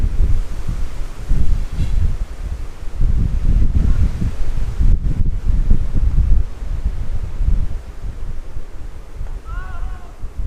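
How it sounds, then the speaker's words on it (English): Gusts of wind buffet the microphone at a cricket ground during a world championship match, rumbling loudly and steadily with brief rustles. "Once again, the wind blows the bails off the stumps."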